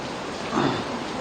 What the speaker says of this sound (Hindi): इस वक्त भी तूफानी बारिश हो रही है